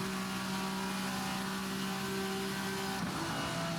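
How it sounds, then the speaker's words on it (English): A VRC Vendetta V60 race car engine in Assetto Corsa drones steadily at high revs with a steady tonal hum, then briefly shifts pitch near the end, loud and close with no talking. "the sounds that you've got going on from the engine, they are great"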